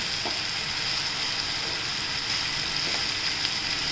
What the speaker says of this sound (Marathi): थोडं आपण कच्चेपणा पण तो परतून घेऊया म्हणजे दोन मिनटं परतून घेऊया